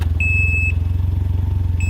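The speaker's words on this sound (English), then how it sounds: "The bike also makes that beeping sound when you put the bike in reverse." A steady electronic beep sounds twice from a Can-Am Ryker 900 three-wheel motorcycle in reverse, a long tone and then a shorter one, over the low rumble of its idling engine.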